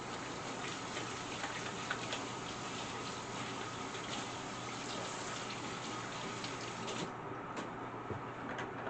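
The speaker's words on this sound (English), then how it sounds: "Let me wash my hands right quick" Hands being rinsed under a running kitchen tap, a continuous close hiss of flowing water that holds steady and softens slightly near the end.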